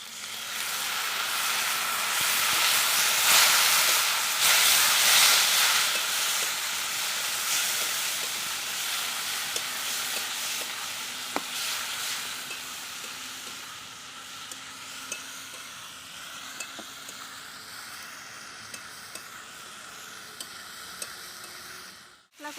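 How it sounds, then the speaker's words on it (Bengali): Ground cumin and coriander masala for a Bengali soybean kofta curry is sautéed in a pan with a splash of water, producing a loud hissing sizzle that gradually fades to a softer bubbling with scattered light pops near the end. "মশলাটা পুড়ে না যাওয়ার জন্য একটু জল দিব।"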